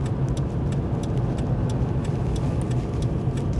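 A car being driven during an advanced driver training run in Ireland, the driver changing down to second gear; a steady mid-pitched engine hum and road rumble carry on without a break, with faint ticking above.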